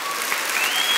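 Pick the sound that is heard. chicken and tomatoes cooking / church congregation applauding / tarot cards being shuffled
church congregation applauding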